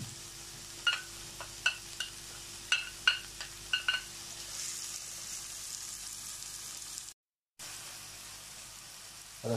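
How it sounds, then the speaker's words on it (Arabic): Onions fry in olive oil, giving a soft, steady sizzle beneath a series of sharp clinks and taps early on, then a brief dropout near the end. "للحشوة بدنا زيت زيتون أو زبدة وزيت، بدي أحط كمية البصل"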